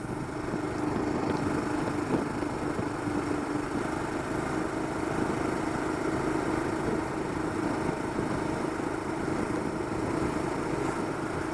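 A motorcycle engine runs steadily throughout a Sunday winter morning bike ride to a lake near Bangalore, a constant loud drone with rumbling wind noise and no talking.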